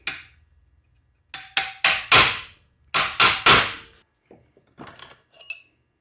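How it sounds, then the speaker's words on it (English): A Hurst shifter plate is hammered back into shape with sharp metallic blows, a close, loud series of about seven strikes in two quick groups, followed by lighter taps and clinks. "So first thing I'm going to do is bend this plate back a little bit over here."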